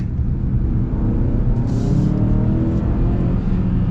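The turbocharged engine of a 2025 Hyundai Santa Cruz pickup accelerates with a loud, steady low rumble and a continuous engine drone throughout.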